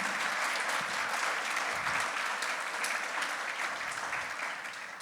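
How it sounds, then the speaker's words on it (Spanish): A church congregation breaks into strong applause during a sermon, a full, even roar of many hands clapping that holds steady and eases slightly at the end. "Vamos a darle a Jesucristo un fuerte aplauso."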